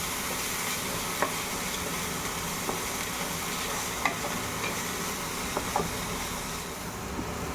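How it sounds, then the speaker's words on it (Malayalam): Chopped onion with green and dried red chillies frying in butter in a pan, giving a steady, even sizzle with a few faint clicks from the pan over several seconds; no voices. "വീണ്ടും ഒരു പാനിലേക്ക് അല്പം ബട്ടർ ഒഴിച്ചതിന് ശേഷം അതിലേക്ക് നമ്മൾ ചെറുതായി കട്ട് ചെയ്ത് വെച്ചിരിക്കുന്ന സവാള ആഡ് ചെയ്യുന്നുണ്ട്."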